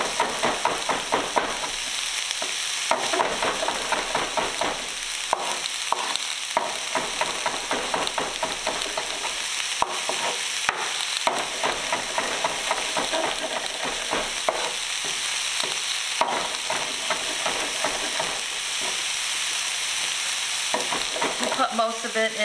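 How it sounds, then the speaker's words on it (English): Food sautéing in a pan for a chicken cacciatore, with a steady close sizzle and frying hiss throughout, punctuated by repeated stirring scrapes and clatters. "So let that saute for a few minutes."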